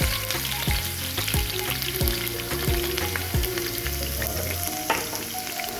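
Garlic frying in hot oil in a pan with mustard seeds and cumin, a steady close sizzle with repeated stirring scrapes and low clinks throughout, no voices.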